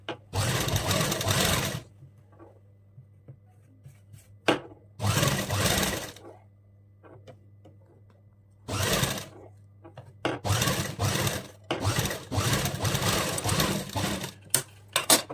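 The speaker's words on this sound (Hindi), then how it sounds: "इस पर हमें स्टिच लगाएंगे, सिलाई देखते हुए, और हमें इस पर स्टिच लगा लेंगे बिल्कुल किनारी से।" An electric sewing machine stitches the hem of an Afghani salwar in loud, fast whirring bursts of a second or two, separated by quiet pauses and small handling clicks.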